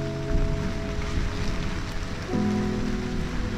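Monsoon rain falls steadily near a river on 12 June, a dense, even hiss of drops on surfaces, close and continuous with a low hum underneath.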